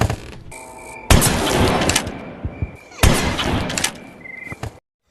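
Shotgun blasts in the horror video game Granny 3, two loud sharp reports about two seconds apart, each followed by a decaying rumbling tail, with faint game ambience between them.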